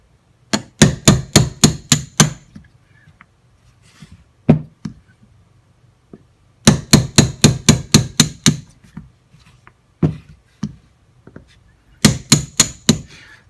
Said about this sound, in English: Alright, so we're going to drive out our frame pins first.